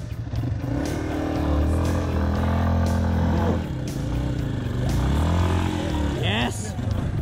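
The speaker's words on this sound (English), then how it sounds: "The fun of dirt riding. This is it." On a trail, a dirt bike engine revs and surges in two long pulls with a quick rise near the end, fairly close, while voices talk at moments over it.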